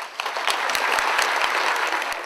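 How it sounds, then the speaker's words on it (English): Dense, loud applause from a luncheon audience honoring employee award candidates, continuous clapping throughout with sharp individual claps standing out close by. "Let's give them all a round of applause."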